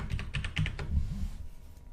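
Typing the percent symbol on a computer keyboard while filling an Excel spreadsheet, a quick cluster of close, crisp key clicks followed by quieter taps, with no talking.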